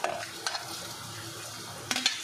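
Onions fry in a pot with a soft sizzle while a utensil stirs them, with a few sharp metallic clinks against the pot at the start and near the end.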